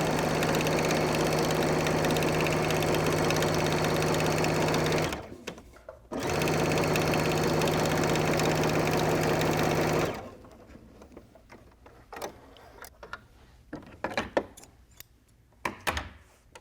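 A sewing machine stitches about a quarter inch from the edge of a handbag handle on an Amy Butler Belle handbag. It makes two loud, even runs separated by a brief pause, followed by quiet scattered clicks and handling sounds.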